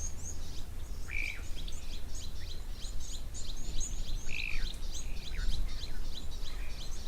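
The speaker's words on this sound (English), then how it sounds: "it sounds like once again the little blue waxbills and the chin-spot batters are here somewhere near to the camera" Small songbirds, blue waxbills and chin-spot batises, calling near a waterhole: a steady stream of high, thin chirps and twittering notes with a few louder whistled calls, moderately close over faint low background rumble.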